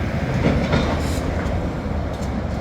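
A freight train rolls past nearby with a steady low rumble and faint rhythmic clatter of wheels on rails, continuous throughout.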